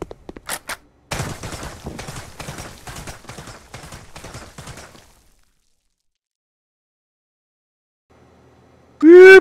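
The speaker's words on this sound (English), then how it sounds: "Who's shooting at me?" Gunfire in a VR shooter game: a dense volley of rapid shots for about four seconds, then near silence with a faint murmur before a sudden loud burst at the end.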